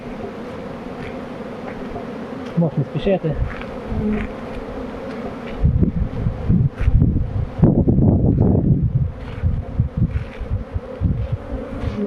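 Honeybees on their orientation flight buzz steadily around the hives in a dense, continuous hum, with a nearby voice speaking briefly and louder close-up buzzing in the middle.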